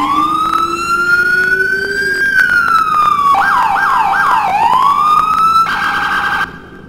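Smart siren of an emergency service unit vehicle in the video game EmergeNYC, a loud, close electronic wail that rises and falls, then breaks into rapid yelp sweeps and a steady high tone before cutting off.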